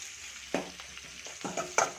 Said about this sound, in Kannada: ಈ ಥರ ಈರುಳ್ಳಿ ಕಲರು ಸ್ವಲ್ಪ ಚೇಂಜ್ ಆಗಬೇಕು, ಅಲ್ಲಿವರೆಗೂ ಫ್ರೈ ಮಾಡಿ